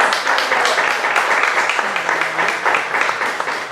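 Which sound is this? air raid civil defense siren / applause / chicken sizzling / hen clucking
applause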